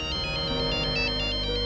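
A phone ringtone plays steadily, a repeating electronic melody ringing clearly with no voices.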